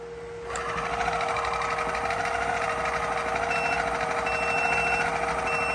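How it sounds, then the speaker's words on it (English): Pump running during an oil change on a Centurion/Supreme boat, starting abruptly then holding a steady, loud electric whine and buzz with no talk. "So let's turn on the pump."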